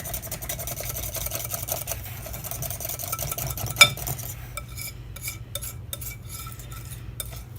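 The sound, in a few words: hand whisking keto brownie batter in bowl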